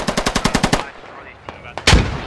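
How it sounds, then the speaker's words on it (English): Gunfire in a military tactical video game: a rapid automatic burst of about eight evenly spaced shots, then a quieter stretch with a couple of faint single reports and a final loud, close shot. "Thrasher shoots Hood in the back."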